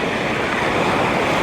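Ocean waves wash steadily onto a sandy beach in San Juan, La Union, a continuous near roar of surf with some wind across the microphone and no voices.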